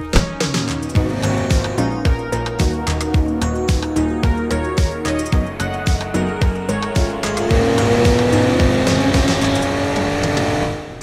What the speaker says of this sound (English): Cadillac CT5-V. With a very hidden launch control.